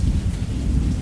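Steady heavy rain pours with deep, rolling thunder rumbling continuously underneath, a dense, even wash of storm sound with no voices.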